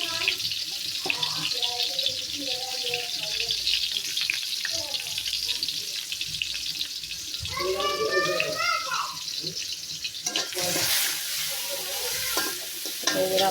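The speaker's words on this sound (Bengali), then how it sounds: "ঝাটকা মাছটা আমি আগে ভাইজা নিচ্ছি" Jatka, young hilsa fish, fries in a large wok over a village cooking fire, a close sizzle broken by scraping stirs and clinks while someone talks over it in places.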